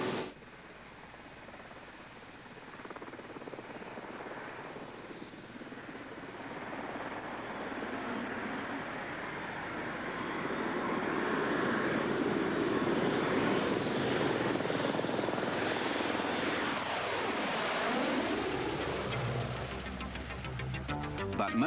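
A coaxial counter-rotating rotor helicopter with no tail rotor and rigid blades drones steadily in flight, a broad roar that swells louder midway and then shifts in pitch as it passes.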